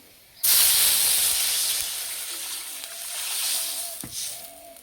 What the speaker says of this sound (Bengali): ডিম ভাপানোর জন্য কড়াইয়ে জল দিয়ে দেবো।